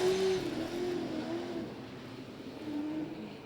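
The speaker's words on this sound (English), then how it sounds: "Barry Kraft looking to run out the UMR engines, Ford BA" Ford BA super sedan race cars run at Gympie Speedway in Queensland. Their engines make a faint, distant, continuous drone that eases slightly over a few seconds, with no talk on top.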